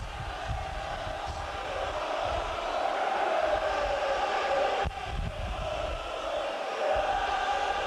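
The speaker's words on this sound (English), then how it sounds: "the tremendous noise from the crowd here" A large stadium crowd at a Hull versus Wigan rugby league cup match keeps up a loud, sustained roar with swelling chants, dipping for an instant midway before surging again.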